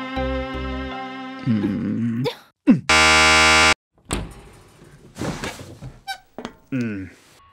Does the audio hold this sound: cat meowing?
no